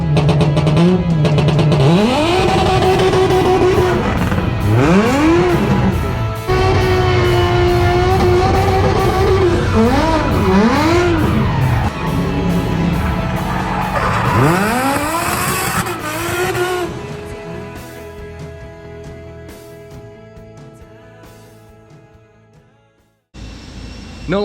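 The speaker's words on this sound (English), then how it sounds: "The Audi S4 V8 rear-wheel drive." An Audi S4 V8 rear-wheel-drive race car engine revs hard and close, its pitch sweeping up and down through repeated throttle blips before the loud roar tapers off and cuts out near the end.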